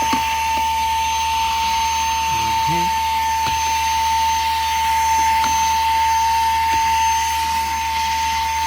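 An OXILAM handheld cordless 4-in-1 car vacuum cleaner runs continuously inside a car's cabin with a steady motor whine and rushing airflow, broken by brief knocks and shifts in pitch as the nozzle moves around.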